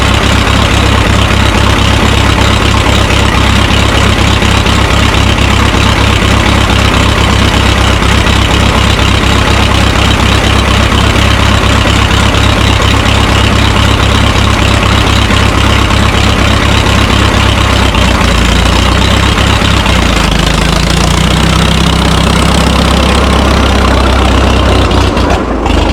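A Minneapolis Moline Z tractor engine idles loudly and steadily close by. Its low, throbbing beat shifts in pitch near the end as the carburetor is adjusted, and no one speaks.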